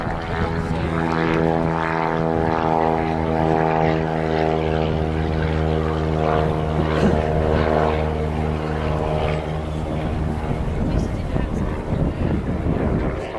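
A Bristol Blenheim's propeller engines run steadily at Bicester, a droning multi-toned hum with strong harmonic layers that holds at a constant level throughout, close and fairly loud.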